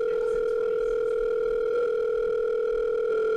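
A steady, loud telephone dial tone hums continuously and unchanging from start to finish, with no talk over it.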